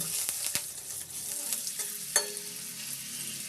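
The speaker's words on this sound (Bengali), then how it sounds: "কাঁচা লঙ্কাগুলো আমি তেলে একটু ভাজা ভাজা করে নিচ্ছি।" Four green chillies frying in oil for a Bengali fish dish, giving a soft, steady sizzle with a few sharp pops and spatters, fairly quiet and close with no talking.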